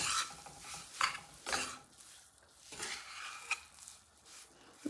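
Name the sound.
stirring besan being roasted in a pan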